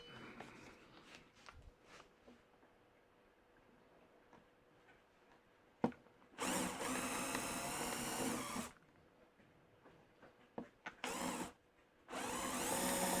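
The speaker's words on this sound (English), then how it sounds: "Get the drill." A power drill boring into a workpiece in a home workshop, quiet ticking and handling noises first, then loud sustained whining bursts of drilling, a long one followed by several short ones.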